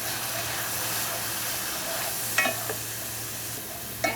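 Shahi dal simmering and hissing steadily in a pan as cumin powder is stirred in, a continuous sizzle with a couple of brief spoon scrapes near the end, close and unaccompanied by speech.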